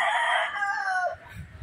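A Dark Kelso gamefowl rooster gives a single loud, close crow with a sustained harmonic call that drops in pitch and cuts off, followed by faint low background noise.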